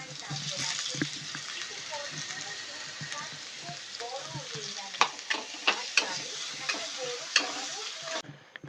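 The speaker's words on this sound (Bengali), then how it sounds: "এরপর এর মধ্যে আমরা গাজরগুলোকেও দিয়ে হালকা করে ভেজে নেবো" Beans and carrots fry in oil in a pan for a pasta dish, giving a steady close sizzle with scraping stirs and a run of sharper clacks of the spoon toward the end.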